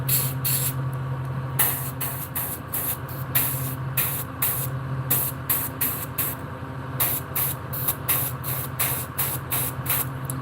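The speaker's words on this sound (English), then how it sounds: "I can tell from the way they're spraying that they need to be cleaned" Airbrush spraying paint onto a realistic largemouth bass model, nozzles in need of cleaning giving an uneven flow: a steady close hiss of air under a constant compressor hum, broken by repeated short bursts of sharper spray in uneven rhythm.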